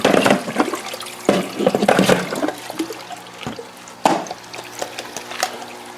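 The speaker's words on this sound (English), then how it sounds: "So I've got the pipes going into the pots here, so the water will be going into" Water pumped through pipes into the 3-bucket hydroponic pots of an RDWC system in a 2x4 grow tent, a steady rushing, splashing flow with louder surges near the start and around four seconds, close by.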